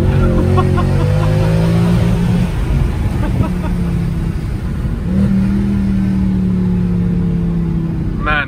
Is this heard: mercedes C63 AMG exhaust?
yes